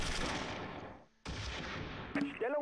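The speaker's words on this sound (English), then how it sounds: "Yeah, they're shooting at us" Enemy gunfire in the wartime tactics game Close Combat III, a dense clatter of rapid shots filling the scene, breaking off for a moment and resuming, with a brief tonal game cue near the end.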